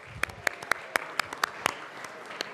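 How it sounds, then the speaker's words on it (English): Scattered hand claps in a state legislative chamber greeting visiting high school students, a dozen or so sharp separate claps at a moderate distance rather than full sustained applause. "If everyone could give them a big round of applause and welcome them to our chamber"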